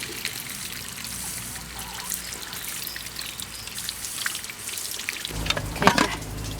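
A pressure cooker of beef bones, stewed over 30 minutes, vents steam in a fast manual release, a steady close hiss and sputter with trickling and dribbling water, swelling louder near the end.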